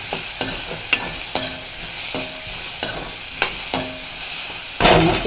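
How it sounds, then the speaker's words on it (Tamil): Vegetables sauté in a pan after salt goes in, a steady sizzle broken by regular scraping stirs and light clinks of a spoon against metal, close and unvoiced, swelling into a louder hiss at the end. "உப்பு போட்டு இது நல்லா வதங்கட்டும் வதங்க மூடி வச்சு நல்லா வேக வச்சு எடுத்துக்கலாம்"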